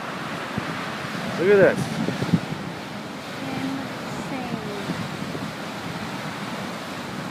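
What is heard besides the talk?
storm surge waves crashing against coastal houses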